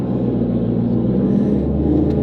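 A car engine runs loudly inside a home garage, giving a steady, continuous deep rumble that echoes in the enclosed space, close and unchanging throughout with no voices.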